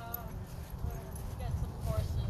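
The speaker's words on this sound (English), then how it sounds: "We've got some horses." Horses' hooves clop softly on the ground at a ranch, irregular and faint, while several people chat over them.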